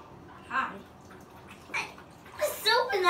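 Bath water splashes in a home bathtub, with a few short splashy bursts of varying loudness between quiet stretches and a voice audible now and then.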